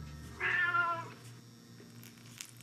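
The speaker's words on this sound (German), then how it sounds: "Abgesehen von der räudigen Studiokatze Mole, die hier ihr Katzenklo hat." A scruffy studio cat gives a single clear meow at close range in a quiet indoor room, over a low steady background hum.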